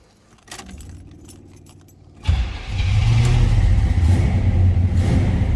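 Keys jingle, then a 1978 Chevrolet Nova's engine cranks and catches on a cold start, settling into a loud, steady idle with a rough rumble.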